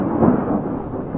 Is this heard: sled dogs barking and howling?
no